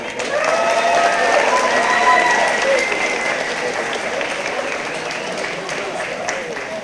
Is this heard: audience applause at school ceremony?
yes